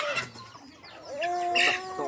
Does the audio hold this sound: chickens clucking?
yes